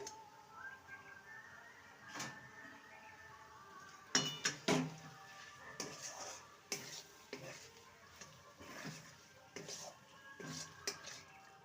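Cabbage and gram flour being stirred in a pan over a low-to-medium flame, with soft scraping and clinking strokes that come in irregular bursts, fairly quiet and close, with a faint sizzle underneath.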